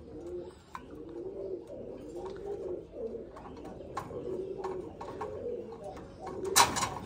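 Rajshahi Giribaz pigeons coo in steady, rolling throaty calls, close and continuous, alone without talk, with a brief sharp noise near the end.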